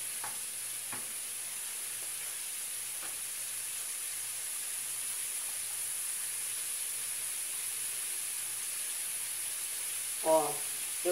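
Cassava pieces frying and browning in a pan, a quiet steady sizzle and hiss with a few faint taps and a short clatter near the end.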